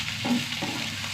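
An okra and egg stir-fry is stirred and scrambled in a pan, with a quick scrape of the spatula over a soft, continuous sizzle during one brief moment.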